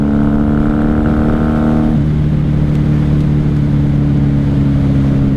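A 1994 Honda Magna 750 VF750C motorcycle engine drones loud and close at a steady pitch in fourth gear, then its tone drops as the rider eases off, settling into a lower steady hum.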